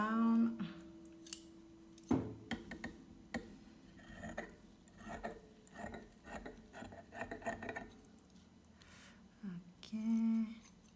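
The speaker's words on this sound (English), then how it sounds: "I will take my cheesecloth underneath here, and I need to trim that down." Scissors trim cheesecloth up close with soft repeated snips, rustling and scraping of the cloth, and a few brief clicks, under occasional quiet talk.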